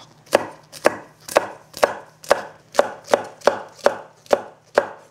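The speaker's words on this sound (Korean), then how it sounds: "청양고추는 어슷 썰어서 준비해 주세요." A knife cuts cheongyang chili peppers on the bias, giving eleven crisp, evenly paced chops against a cutting board, close and clear, with no talking.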